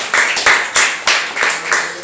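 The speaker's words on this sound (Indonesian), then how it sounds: "Beri tepukan untuk Tuhan." A church congregation claps in a brisk, fairly even rhythm of about seven sharp claps over two seconds, close and loud.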